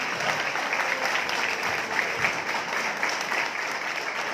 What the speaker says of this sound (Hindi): तो आप सबके लिए एक बार जोरदार ताली हो सकती है।